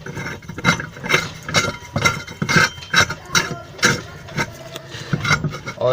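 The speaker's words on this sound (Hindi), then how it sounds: "दोस्तों, इसके चेक नट को लगाया जा रहा है।" Fitting and tightening a check nut on a washing machine: rhythmic rasping and scraping strokes of metal turning on metal, repeated roughly every half second, close and fairly loud.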